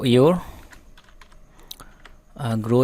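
Typing on a computer keyboard while laying out heading text in a Canva design, a brief run of soft, scattered key taps sitting between stretches of speech.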